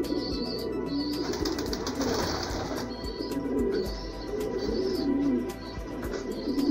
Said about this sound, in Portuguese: Tratando da pombada agora na tardinha de domingo aí